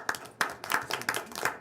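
Sparse, uneven clapping from a handful of people at a school board meeting, honoring the state champion girls' varsity swim team; a few separate bursts of hands rather than a full ovation, moderately quiet.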